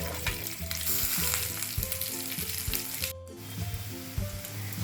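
Masala karela, bitter gourd slices coated in spice masala, frying in plenty of oil in a pan, giving a steady close sizzle with a soft crackle that drops out for a moment before resuming.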